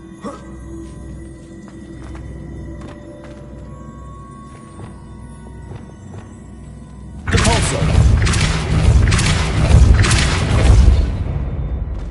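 Confringo blasting spell in the Hogwarts Legacy video game: after quiet game ambience, a heavy booming blast erupts and rolls on as loud, rumbling explosive noise for several seconds.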